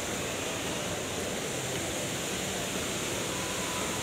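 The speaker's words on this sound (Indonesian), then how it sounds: "ini kita bisa melihat air terjun Jewel dari sudut yang lain" Indoor waterfall at Jewel Changi Airport in Singapore: a steady, broad roar of falling water fills the whole stretch evenly, with no voices.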